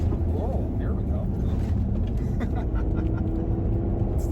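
A manual Porsche Cayenne V6 rumbles at steady speed on icy backroads, heard from inside the cabin as a low, constant drone of engine and road noise beneath someone talking.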